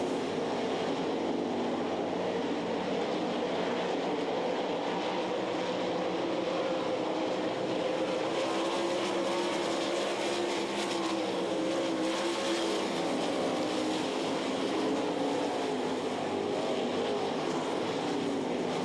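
Sprint race cars roar around the Knoxville Nationals speedway, their engines a sustained, droning rumble with shifting pitch as they circle the dirt track, heard at a moderate distance and fairly subdued.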